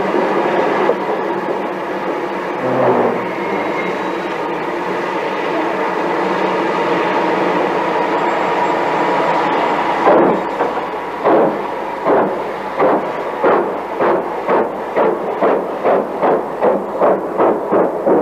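An LMS Class 2 steam locomotive works along, at first as a steady rumble, then with distinct rhythmic exhaust beats that quicken and sharpen, close and fairly loud, with no voices.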